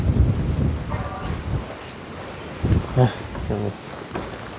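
Cold wind blows outdoors with a steady, gusting rumble buffeting the microphone, while someone speaks in short bursts over it.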